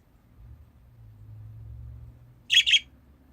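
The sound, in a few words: pet birds chirping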